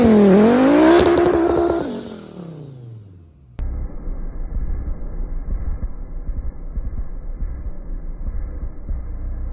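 A Volvo 850 T-5R with an all-wheel-drive swap on a test drive: an engine revs hard and climbs in pitch, then falls away. After an abrupt cut comes a steady, low in-car rumble of driving.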